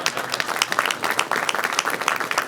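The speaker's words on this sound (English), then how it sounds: "Always good to have the auditor applauding something you do." Scattered applause at a county public safety pay press conference, a short burst of uneven clapping from a small group in a room, fairly close and steady for a couple of seconds.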